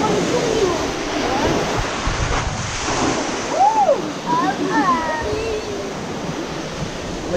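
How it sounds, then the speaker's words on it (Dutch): Rushing, splashing water surges close by amid wind noise on the Anaconda boat ride at Walygator, with people's voices and excited calls rising over the churning wave. "We krijgen weer zo'n flinke golf."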